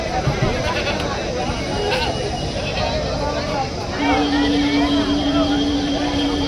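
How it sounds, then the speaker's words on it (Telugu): Sheep and goats bleat at the weekly livestock market in Kadiri before Bakrid, their calls rising over loud, busy crowd chatter, with one long, drawn-out bleat near the end. "ప్రత్యేకంగా మేకలు, గొర్రెలు ఎక్కువ వచ్చాయి"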